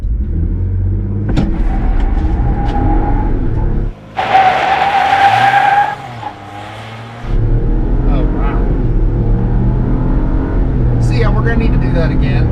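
Roush Bronco truck with the 2.7L engine and Performance Pack accelerating hard in sport mode, a loud sustained engine roar with tire-skid noise across the run, briefly dipping midway before resuming, with people talking over it.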